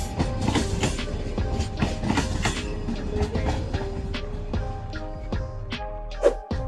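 Himsagar Express, a weekly Indian Railways long-distance train, rolling along the rails with steady clickety-clack of wheels over joints and rumbling carriages, loud and close throughout, with a brief sharp clank near the end.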